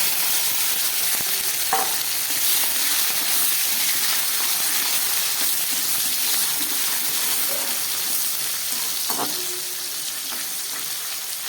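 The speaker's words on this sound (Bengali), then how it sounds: "এবার আমি এর মধ্যে কেটে রাখা টমেটো, ক্যাপসিকাম আর একটু পেঁয়াজ দিয়ে দিলাম।" Chopped tomato, capsicum and a little onion frying in a pan over already-fried tempering spices for a Bengali mushroom dish. The sizzle is steady, loud and close, with a couple of brief stirring knocks and no voices.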